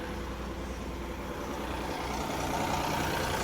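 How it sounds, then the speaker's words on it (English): The engine of an SC48TX stump grinder runs with a loud, dense, steady rumble, heard up close with no talking. "I'm going to actually start it up, make sure it sounds good"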